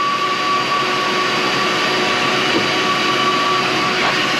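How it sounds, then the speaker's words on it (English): A vacuum cleaner runs steadily in a workshop, a constant loud whirring drone with a faint tonal whine and no pauses throughout. "Cut the vacuum off."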